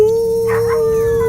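Dogs howl in one long, sustained, loud wail as a film sound effect, set in the dead of night, with no other sound around it.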